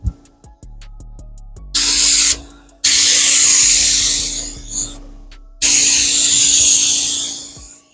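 Compressor-fed spray gun coating 30-year-old Honda Civic EF / Integra tail lights, heard as three close, loud hissing bursts with short silent pauses between them and no talking.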